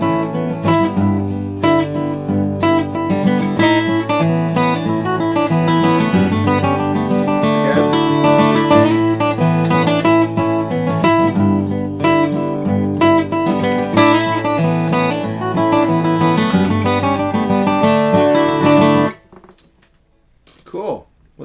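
Fiddle playing a tune in 4/4 with syncopated three-note phrases, a continuous busy melody over accompaniment for most of the passage, then it stops and a brief voice speaks near the end.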